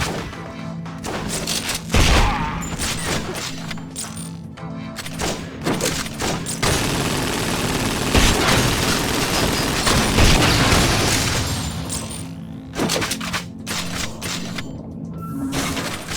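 Sustained automatic gunfire from GoldenEye: Rogue Agent strikes gun turrets, a dense, loud, continuous fusillade with booming impacts that runs nearly the full stretch and thins into scattered shots near the end, with no talking.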